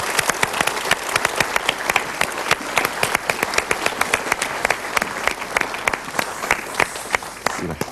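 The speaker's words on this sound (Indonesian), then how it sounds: "Kita berikan tepuk tangan yang paling meriah untuk Ulfa Dwi Yanti." Loud, sustained applause from an audience, many hands clapping rapidly and steadily throughout, with a few voices faintly mixed in.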